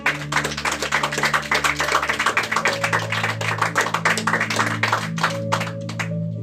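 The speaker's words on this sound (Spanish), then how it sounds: "¿Cuánto le dan un fuerte aplauso para el Señor?" A church congregation claps loudly and steadily, with dense rhythmic applause over sustained organ or keyboard chords.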